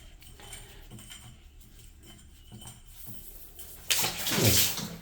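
Quiet dripping and faint rustles give way near the end to a sudden loud gush of water splashing out of a bathroom pipe.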